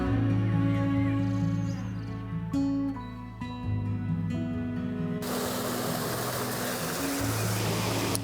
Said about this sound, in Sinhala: සිංහරාජයෙන් ගලාගෙන එන හරිම සීතල වතුර පාරක්.